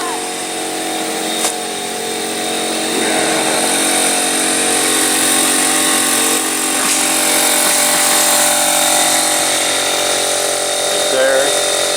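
A roofing jobsite air compressor runs loud and close, a steady broadband mechanical drone that holds for the whole stretch, with faint voices underneath.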